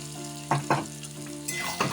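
Ground cashew, melon seed, ginger and green chili paste sizzling with potatoes for aloo dum, a low steady fry with a few quick stirring bursts over a faint tonal background.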